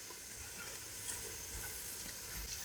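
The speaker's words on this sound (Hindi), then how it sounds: "अब हम मसालों को अच्छे से मिक्स कर लेंगे।" Spices being stirred together in a cooking pan for an egg and keema korma, a steady close sizzle with soft scraping running through without a break, and no voices.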